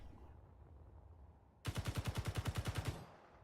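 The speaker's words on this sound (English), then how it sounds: "If I shoot the ship," Rapid automatic gunfire hits a ship in the Space Engineers video game, a loud even burst of about twelve shots lasting just over a second after a quiet stretch of background hum.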